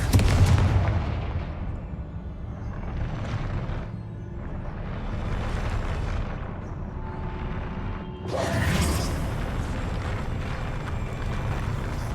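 A Confringo blast spell explodes in the Hogwarts Legacy video game, a dense booming roar that swells and surges over about twelve seconds, with a sharp fresh burst near the end, loud and close, no talking.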